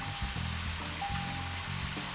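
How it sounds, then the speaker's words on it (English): Steady broadband rain hiss falling in Deadly Premonition Origins, constant and moderately loud, with low tonal game sounds underneath. "Oh, it started raining."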